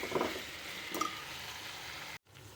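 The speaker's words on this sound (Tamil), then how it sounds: "இந்த கத்திரிக்காயை நல்லா வதக்கணும்" Chopped brinjal sautés in oil for a Tamil ennai kathirikai gravy, a faint, steady sizzle with a couple of soft stirring bumps and a brief cut near the end.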